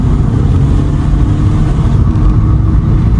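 A 2010 Škoda Octavia vRS TDI diesel accelerating in limp mode, heard as a steady, loud low engine drone from inside the car that holds constant for the whole stretch.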